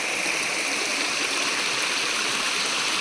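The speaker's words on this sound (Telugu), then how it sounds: "ఎంత ఫ్రెష్గా వాటర్ వస్తున్నాయో చూడండి" Fresh stream water flowing at Aluru Kona waterfalls, a close, continuous bright rushing and babbling wash with no pauses and no voices over it.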